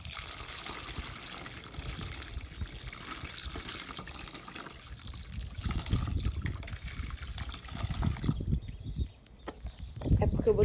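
Water pours and splashes steadily into a jar holding soil and beans, a continuous close trickling wash that grows fuller and rougher toward the end, with a brief lull before resuming.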